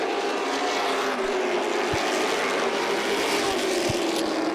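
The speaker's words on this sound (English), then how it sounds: "a battle for the fifth spot starting to shape up between Chris Gordon in the number 21 and the 26 of Brian Thomas" Late model stock cars racing at Concord Motorsport Park, a continuous loud engine roar from the pack passing steadily without breaks, heard alone with no talk.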